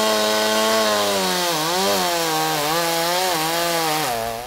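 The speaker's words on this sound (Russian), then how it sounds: "Рабочие пилят его по частям, используя так называемую оттяжку для контроля траектории падения." A chainsaw runs loud and steady, its engine pitch rising and dipping as it cuts a large maritime pine into sections in a seaside park.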